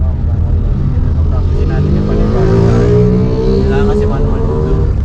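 A manual motorcycle's engine runs close and loud, its revs climbing steadily in a rising, drawn-out whine over the low rumble.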